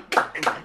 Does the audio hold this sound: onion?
no